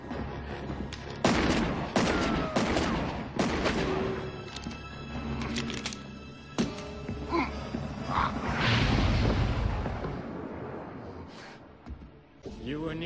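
Gunfire rings out in a dramatized action scene: a series of sharp bangs and booming shots, some in quick clusters, mixed with rumbling effects and voices.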